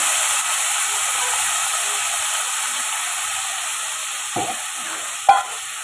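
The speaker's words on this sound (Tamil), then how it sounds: "காய் கட் பண்ணி வச்சுருக்கோம் காய் சேர்த்துக்கலாம் நான் கத்திரிக்காய் முருங்கைக்காய் கேரட்டு எடுத்துருக்கேன்" Brinjal, drumstick and carrot sauté in hot oil with mustard seeds, making a steady, fairly loud hiss and sizzle, with a soft stir partway through and a single sharp knock near the end.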